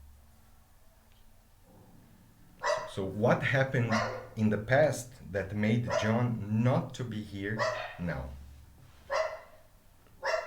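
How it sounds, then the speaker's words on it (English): Several pet dogs bark loudly and repeatedly close by, in bursts that overlap and mostly drown out a person speaking indoors, then fade to quieter yips. "Sorry about my dogs barking."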